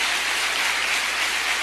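A church congregation applauds together in a brief, even wash of dense clapping that holds at a steady level throughout.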